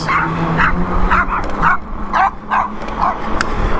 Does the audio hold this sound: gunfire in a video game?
no